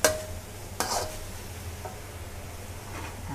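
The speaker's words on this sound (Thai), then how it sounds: "ให้ผัดให้มันหอมก่อนค่ะ" Minced pork and long beans stir-fried in a pan, a steady close sizzle with a couple of sharp scraping clacks of the spatula near the start and middle, no talking.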